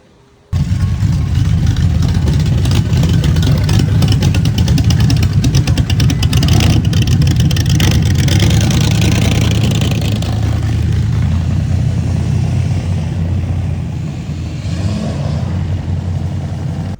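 A classic truck's dressed-up small block V8 starts suddenly and runs loud and steady at close range with a rough, throbbing tone, then eases slightly toward the end while still running.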